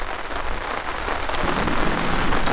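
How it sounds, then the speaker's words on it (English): Steady rain falling in a boreal forest at a campsite, a dense, continuous hiss of drops that grows slightly heavier, with no voices. "It's going to be raining all day."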